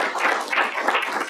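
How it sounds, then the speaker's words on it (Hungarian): Audience applauding steadily at an award ceremony for a national wind chamber music festival and competition, a dense continuous clapping that stays loud and even throughout, with no voices over it. "Kérem, tapsolják meg!"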